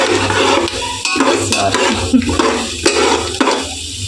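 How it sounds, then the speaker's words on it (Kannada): Peanuts frying and being stirred in a pan, with loud, repeated scraping and clattering of a utensil against the metal in an uneven rhythm over a faint sizzle. "ಇವಾಗೆ ಶೇಂಗಾ ಫ್ರೈ ಆಗ್ತಾ ಇದೆ"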